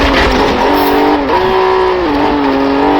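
A Lotus Carlton (Type 104) racing in Forza Horizon 4, its engine roaring loud and close as the revs climb, drop with gear changes and climb again, with some tire noise.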